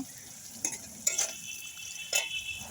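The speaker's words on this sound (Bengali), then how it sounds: "পেঁয়াজটা লাল লাল করে ভেজে নিচ্ছি" Onions fry in a pan to a reddish brown with a faint, steady sizzle, broken by a few light scrapes and clinks of a stirring utensil.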